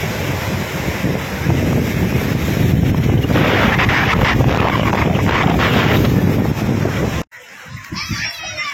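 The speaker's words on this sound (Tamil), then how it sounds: "காத்து அப்படி வீசுது." Strong wind buffets the microphone at the Dhanushkodi seashore, roaring continuously with surf and water noise beneath, loud and close until it cuts off near the end.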